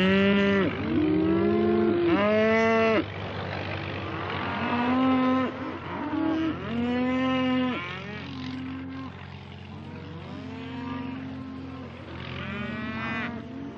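Galloway cattle, a dun and brown Scottish breed, low repeatedly in winter on a Dartmoor farm. Several drawn-out moos sound nearby, some overlapping, over a faint constant drone in the background.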